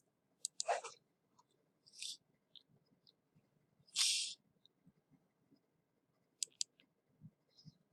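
Computer mouse clicks and a keyboard Control C shortcut tap out as a few sharp, close, isolated clicks with short gaps between them in a quiet room, with no talk.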